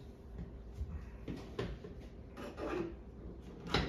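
Interior trim in a Porsche 981 GT4 being pried up with a trim tool: quiet rubbing and scraping with a few soft plastic creaks and clicks, close by and faint.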